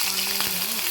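Green chillies sputter in hot tempering oil with mustard seeds and cumin, a dense close hiss lasting about a second, with a faint low hum underneath.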